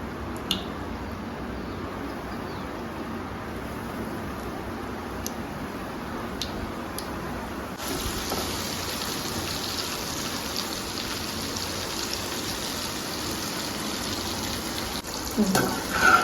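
Popcorn chicken pieces deep-fry in hot oil, KFC style, giving a continuous bubbling sizzle with scattered small pops; the frying turns louder and busier about halfway through.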